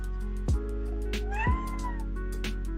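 A cat meows several times in short, repeated calls, with a faint, wavering higher cry between them, fairly close and clear against a quiet indoor background.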